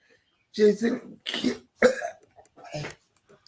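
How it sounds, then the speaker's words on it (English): A few short bursts of throat clearing and coughing, close and fairly quiet, spaced about half a second apart. "I have to clear my throat"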